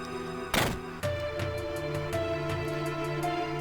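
In Final Fantasy VII, a broken vending machine takes one hard thump, then a string of lighter knocks lands over a steady electronic hum and tones.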